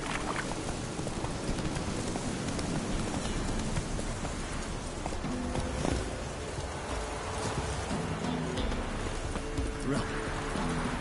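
Horse galloping in The Witcher 3: Wild Hunt, a steady run of clip-clop hoofbeats lasting throughout over a dense, busy game ambience.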